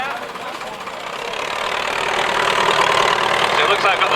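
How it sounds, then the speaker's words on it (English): Scammell tractor engines rumble into a show arena at a Scammell gathering in Ackworth, a broad mechanical drone that grows steadily louder as the vehicles approach, with voices talking over it. "I've got the start of our tractors coming into the arena now"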